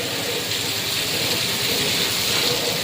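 Heavy rain pours onto a house rooftop during a thunderstorm, a dense, even broadband roar that stays constant throughout with no voices.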